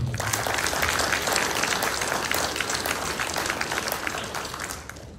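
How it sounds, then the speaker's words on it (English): A round of applause from an audience at a graduate student awards ceremony, honoring student research presenters; even, continuous clapping from many hands that holds steady and fades slightly toward the end. "I'd like to give them a round of applause for a job well done"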